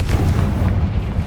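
A Confringo fire spell explodes in Hogwarts Legacy, a loud, deep booming blast with a rolling low rumble that sustains for over a second, close and without speech.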